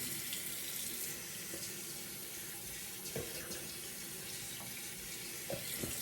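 A tap runs steadily into a sink to rinse a freshly shaved head, constant close splashing water with a few small knocks and no speech.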